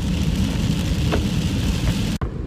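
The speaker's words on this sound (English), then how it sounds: "We need rain in California." Heavy rain drumming on a car, heard from inside the vehicle in California: a dense, continuous roar with a few brief thuds, cut off abruptly near the end.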